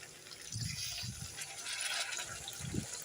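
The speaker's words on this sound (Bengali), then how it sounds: "এবার আস্তে আস্তে জল দিয়ে দেবো।" Water is poured slowly into a pan of fried potatoes, a soft, faint, steady trickle and gush with a few low sloshing pulses, heard close but quiet.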